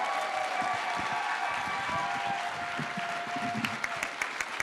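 Audience applauding a voice actors panel at a comic convention, dense steady clapping from a large room with a few faint voices underneath.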